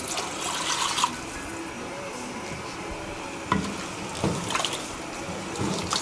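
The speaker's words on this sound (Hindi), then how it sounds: "दाल को गलाने के लिए शामिल करेंगे 1 गिलास पानी।" A glass of water pours and splashes into a pot of cooking lentils, a steady liquid rush with a few sharper clinks and splashes near the middle and end.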